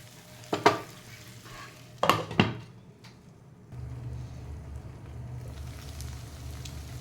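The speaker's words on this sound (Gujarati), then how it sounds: "આવી રીતે ફરી આપણે એને હલાવી લઈશું" Stuffed okra masala being stirred in a pan: a few distinct scraping clatters near the start, then a steady low sizzle of the cooking bhindi, close and without speech.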